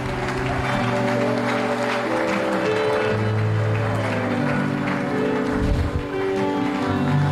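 A church congregation at an anniversary service claps loudly and continuously, a dense sustained wall of applause mixed with cheering voices and sustained musical tones underneath.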